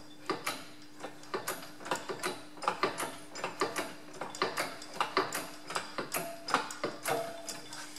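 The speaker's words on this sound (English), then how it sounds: "I'm over at the press. We'll just press them in." Workshop press forcing wheel studs into a steel spare wheel disk for a boat trailer, a run of sharp metallic clicks and creaks in irregular bursts, fairly close and alone, with no talking.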